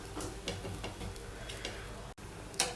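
Fenugreek chapati frying in oil in a pan, a steady close sizzle broken by soft rhythmic scraping and turning sounds and a brief cut near the end, with no voices.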